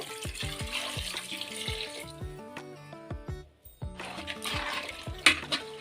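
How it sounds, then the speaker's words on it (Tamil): Water pours into a metal pot, gurgling and ringing with rising, bubbly tones, pausing briefly before pouring again. "இப்போ சாம்பாருக்கு தேவையான அளவு தண்ணி ஊற்றிக்கோங்க"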